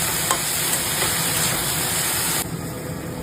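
Turmeric, cumin, coriander powder and salt being mixed in a hot pan, a loud continuous sizzle with light stirring, easing slightly toward the end.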